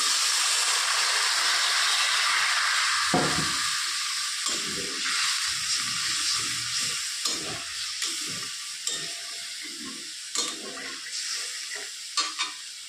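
Water poured into a pan of frying paneer curry sets off a loud, steady sizzle and hiss that runs throughout, with occasional stirring clatters and scrapes breaking through.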